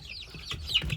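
Young chicks give a few soft, faint chirping clucks in quick succession, the calls close together within about a second against a quiet background.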